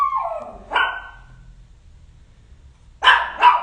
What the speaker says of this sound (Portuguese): A cachorra começou a latir agora.